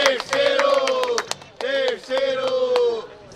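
A crowd at a freestyle rap battle claps and shouts loudly in several surging waves of cheering voices with sharp hand claps, then drops off near the end.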